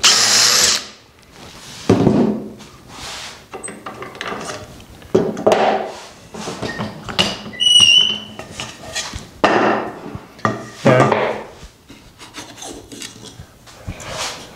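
A power drill cuts dowel holes into a wooden raised-panel dresser end, in repeated short bursts separated by clatter and handling of the workpiece, fairly close.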